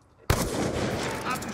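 A single sniper rifle shot in Black Ops 2 cracks out suddenly after near silence, a loud close blast followed by a sustained rumbling, noisy tail.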